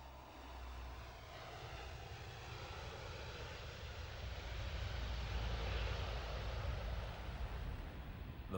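Lockheed C-130 Hercules turboprop engines, on an aircraft converted for firefighting, drone loudly and steadily throughout, a deep rumbling roar that swells slightly toward the end, with no voices.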